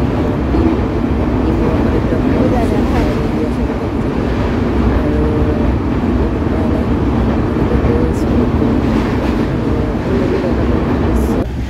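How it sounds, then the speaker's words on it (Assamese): A passenger train runs through green village countryside with trees in Tinsukia, Assam, giving a steady, loud, close rumble throughout, with light rattling of the carriages over the rails. "খুব সুন্দৰ আৰু চিমচিম গছ গছনিৰে ট্ৰেইনখন গৈ থাকিলে সঁচাকৈ কিবা এটা ভাল লাগে"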